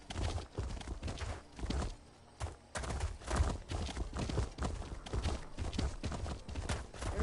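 Large draft horses walk in the video game The Elder Scrolls Online. Their hooves make a steady, moderately close clip-clop with a brief pause partway through.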